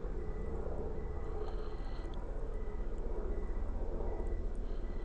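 A helicopter flies overhead with a continuous low, droning rumble and a faint rhythmic pulsing, steady and fairly distant.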